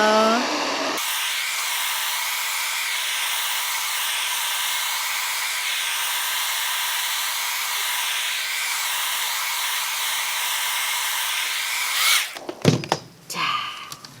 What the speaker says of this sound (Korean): 그래서 이제 또 드라이기로 말려볼게요.